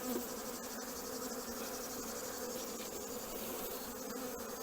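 Honeybees rob a hive while nuclei are being combined before wintering, a dense, continuous buzz of many insects close by, faint overall, with no one speaking.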